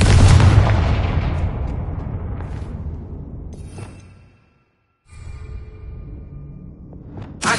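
Fiery blast spell cast in Hogwarts Legacy, a loud booming explosion with a long rumbling decay that fades to silence, followed by a second burst and a sharp crack at the end.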